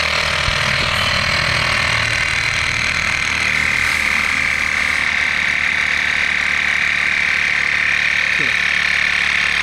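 An electric air pump inflating a motorcycle tyre runs with a continuous loud buzzing drone and mechanical whine, steady from start to finish, while someone talks over it.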